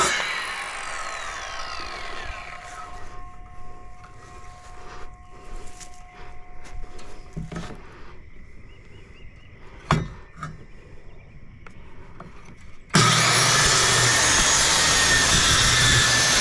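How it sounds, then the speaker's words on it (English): A SKIL 15 amp circular saw with a 7 1/4 inch blade cuts through plywood, with a loud broadband roar close by and some clanks, then a sharp rise to a harsher, louder whine near the end. "I'm just gonna run through this piece of plywood just to show you how it operates"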